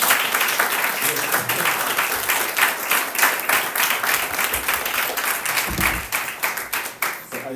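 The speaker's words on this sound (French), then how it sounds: "nous pouvons les applaudir pour les accueillir parmi nous" A church congregation applauds to welcome two pastors, a dense, steady clapping from many hands that carries on for several seconds and then fades unevenly, with little talk.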